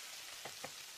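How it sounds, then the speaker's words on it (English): Faint, soft sizzling crackles of beaten egg frying in olive oil in a frying pan, steady, with a couple of brief quiet bumps, all at low volume. "I've just poured the rest of the olive oil into the frying pan"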